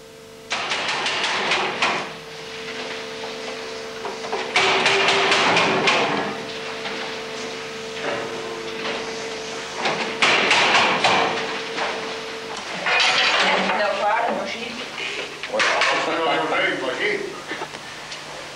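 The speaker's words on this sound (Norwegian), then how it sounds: "Stein som blir liggende på risten blir knust med en Ramer 600S hydraulisk hammer" Bursts of heavy mechanical pounding and banging from a Ramer 600S hydraulic hammer breaking rock on a grate in a mine come in repeated bouts over a running engine, with a voice talking throughout.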